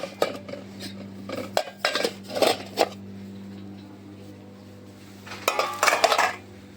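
A set of three steel pots clinks and clatters as it is handled, sharp metallic knocks coming in short bursts with quiet gaps between, close and clear over a low steady hum.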